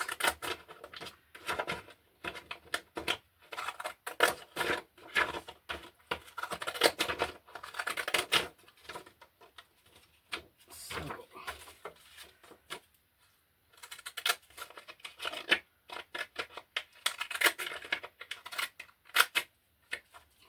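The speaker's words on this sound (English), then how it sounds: "So just cutting into the flowers." Scissors snip through paper flowers cut out for a junk journal, making close, crisp bursts of repeated cuts with brief pauses between them.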